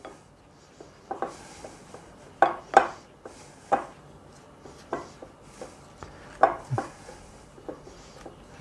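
Pie crust dough being blended by hand with flour in a bowl, giving soft scattered scraping and tapping knocks at an irregular rhythm, close and fairly quiet with no talking.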